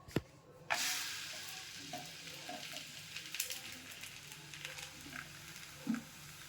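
A rolled paneer roll wrap, rolled out in oil, laid on a hot griddle: a thump as it lands, then steady sizzling with small scrapes and pops, close and alone.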